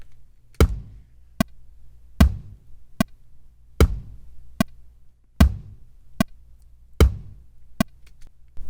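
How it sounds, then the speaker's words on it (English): Programmed kick drum hits on the first and third beats in a Pro Tools drum pattern, evenly spaced low punchy thumps alternating with lighter clicks, repeating over several bars with nothing else playing. "The kick is on the first and the third beats."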